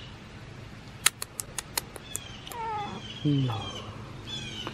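A house cat meows a few times at close range in a home, with people talking around it as the household gets ready to leave on a road trip.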